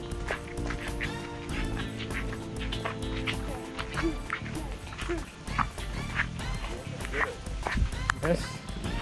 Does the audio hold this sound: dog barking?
yes